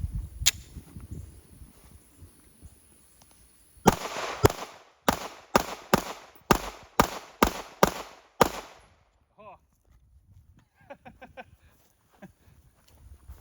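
Pistol shots firing PMC 115 grain ammunition at a shooting range: about nine sharp reports in a quick, fairly even string, each a loud crack with a short tail, and quieter background before and after.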